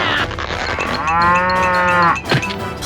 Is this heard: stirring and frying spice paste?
no